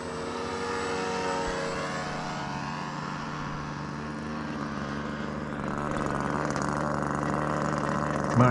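A nitro-engine RC model airplane flying at an RC field, its small engine buzzing as a steady high-pitched drone with shifting pitch, rising somewhat louder toward the end, heard from a distance.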